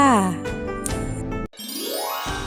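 A bright notification bell jingle rings out alone, a cluster of chiming tones followed by a rising swept tone, loud and close.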